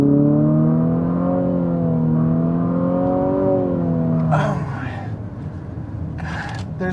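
A 2023 Infiniti QX50 Sport engine hums with a rising, wavering tone as the car accelerates, heard from inside the cabin, fading after about four seconds into brief bursts of other noise.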